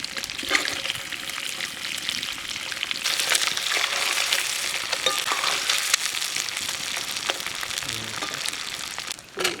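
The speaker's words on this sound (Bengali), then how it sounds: "তেল গরম হয়ে গেছে, ডিম দিয়ে দেবো।" Eggs frying in hot mustard oil at an outdoor forest cooking spot: a steady, loud sizzle and crackle throughout, with occasional stirring clinks, and no talk.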